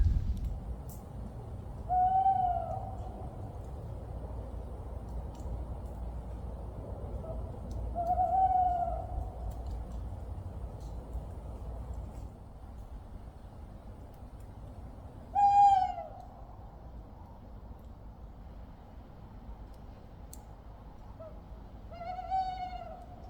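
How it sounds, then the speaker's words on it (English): An owl hoots in short bursts every few seconds, moderately distant, against a quiet, faintly humming woodland night background. "I think the owl's getting angry with me."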